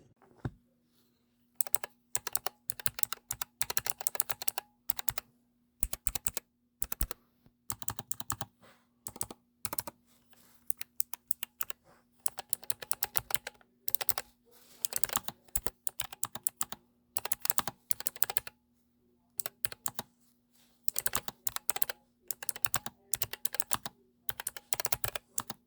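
Fingers type on an Epomaker computer keyboard resting on top of a laptop, giving crisp, close key clicks in fast bursts separated by short pauses, over a faint steady hum.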